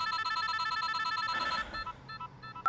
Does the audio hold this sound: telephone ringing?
yes